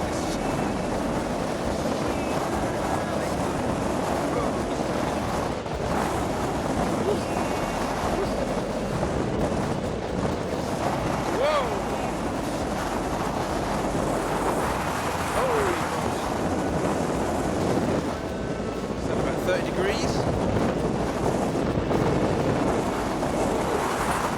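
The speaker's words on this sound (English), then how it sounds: "Blowing a breeze." Strong wind roars steadily along the Heaphy Track in New Zealand, buffeting the microphone with a dense, continuous rush and occasional gusts, close and loud throughout, with no clear talking.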